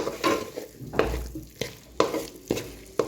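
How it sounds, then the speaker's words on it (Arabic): Tomatoes frying with onion and vermicelli in a pan are stirred in a regular rhythm, each scrape and clack of the spoon landing about every half second over a soft underlying sizzle, close and clear with no talking. "قصيتهم بالشكل هذا، ومن بعد نحركهم مع بعضهم مليح ونخليهم يطيبوا شويه مع بعضهم"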